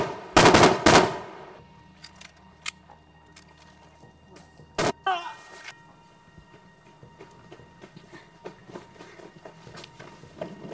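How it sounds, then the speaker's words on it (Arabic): Bursts of gunfire in a night scene from an Arabic drama series: a loud rapid volley near the start, another sharp burst around the middle, then scattered fainter shots and clicks over a quiet background. "ما سمعت صوت رصاص يا مختار؟"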